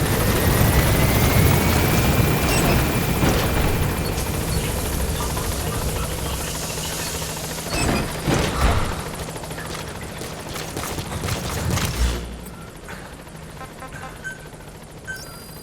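A Pequod helicopter from Metal Gear Solid 5 arrives at a landing zone, its steady rotor roar loud and continuous, with a few sharp bursts around the middle before the engine noise drops back toward the end.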